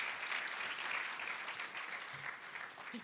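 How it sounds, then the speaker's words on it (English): Audience applause fills the room after an author talk, a dense, steady wash of clapping from a sizable crowd that holds at full strength and tapers only slightly over three seconds. "let's give them a round of applause, please."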